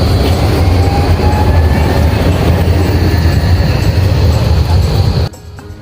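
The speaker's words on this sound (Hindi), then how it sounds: "ये देखें चल पड़ी है ट्राम वे," A tram in Zurich pulling away, giving a loud, steady rumble of wheels on rails with faint squeals that runs for several seconds before cutting off abruptly.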